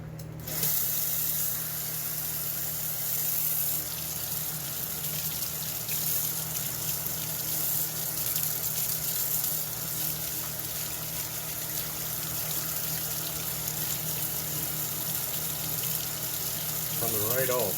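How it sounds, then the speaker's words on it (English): Tap water runs steadily into a sink while paint is washed off a Matchbox Chevrolet Impala taxi toy car, a continuous close splashing stream lasting throughout. "I think that we are ready to wash it off in the sink just that fast."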